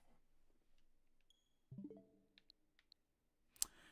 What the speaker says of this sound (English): The clicking of the menu?